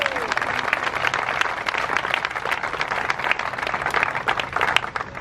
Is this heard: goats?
no